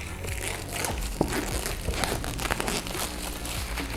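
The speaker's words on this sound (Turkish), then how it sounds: "Şöyle üstündeki jelatini açıyorum." Plastic shrink wrap torn and crinkled off the box of a Bang & Olufsen BeoSound A1 2nd Gen Bluetooth speaker, with close, continuous crackling and rustling and a few sharper snaps.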